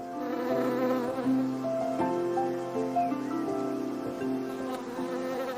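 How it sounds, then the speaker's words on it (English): Bees forage among flowers and trees in a garden, a steady layered buzzing of several insects close by, continuous throughout with slight swells and no voices. "bees foraging for food in our gardens pollinate our flowers and trees"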